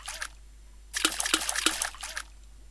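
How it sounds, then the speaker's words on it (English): A sloshy water sample is layered with a clap in a music production demo, heard as a short splash at the start, then a louder burst of wet splattering hits in quick succession. "a sloshy water sample"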